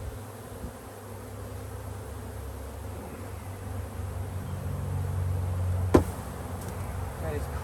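Honey bees humming around an open hive during a swarm cell check in Western Michigan, a steady close buzzing drone with low handling noise and a sharp knock near the end.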